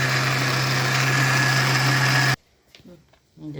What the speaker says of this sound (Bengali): নতুন ব্লেন্ডারে মশলা করলাম